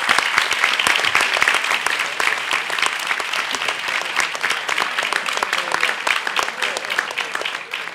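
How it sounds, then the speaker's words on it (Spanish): Loud, dense applause from an audience at the presentation of an annual report, many hands clapping rapidly and evenly for the whole stretch. "Así que un aplauso."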